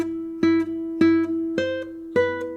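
Classical guitar playing the top voice of a Fernando Sor study, Lecon XX op. 31, four plucked notes in a slow even rhythm, each ringing on into the next, played alone.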